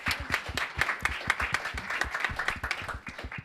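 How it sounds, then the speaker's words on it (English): Audience applause at an impact investing night, a steady burst of many hands clapping densely throughout, moderately loud in a room with no talk over it. "Big round of applause."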